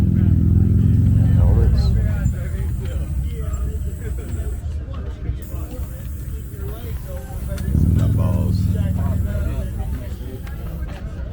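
A motorcycle engine roars loudly nearby, revving high at the start, easing off, then surging again as the rider pulls a wheelie on a mountain road, with people talking over the engine noise.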